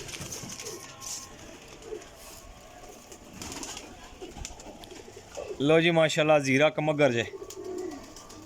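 Lal Pari pigeons coo softly and steadily nearby, and a voice rises loudly toward the end.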